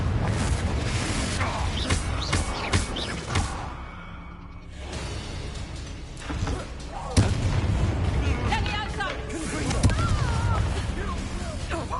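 A Confringo spell in the Hogwarts Legacy video game bursts with a loud whooshing explosion amid rapid spell-combat blasts and booms, with voices shouting over the fight.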